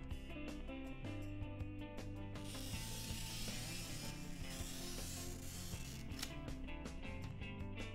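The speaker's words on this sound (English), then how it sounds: "with the tip of the plexiglass cutter, make three passes scoring the plexiglass" A plexiglass cutter tip scoring an acrylic sheet on a Logan 709-1 acrylic plastic cutter, giving a steady close scraping, ratcheting rasp that runs continuously through the whole stretch.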